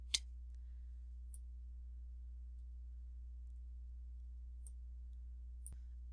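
Sharp mouse clicks on a computer, one at the start and a couple more later, isolated and fairly faint over a steady low electrical hum.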